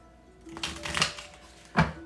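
A deck of tarot cards is shuffled during a reading, with soft riffling and papery slaps building into a louder snap near the end. A faint steady hum runs underneath.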